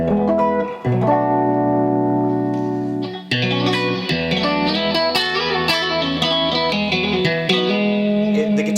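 Electric guitar (Stratocaster with tremolo, clean tone) strums ringing chords with a shimmering, effected tone, the chords changing every few seconds and sustaining.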